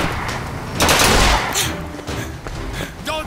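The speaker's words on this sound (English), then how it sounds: "Who the hell is shooting?" Gunfire from the video game Bioshock Infinite comes as loud, rapid bursts of shots and heavy thuds, packed close together and filling the whole moment with little pause.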